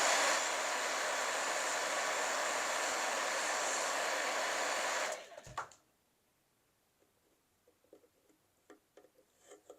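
A hair dryer blows a steady, loud whooshing blast of air on a plastic container with a vinyl label for about five seconds, then cuts off, leaving quiet with a few small clicks and handling noises.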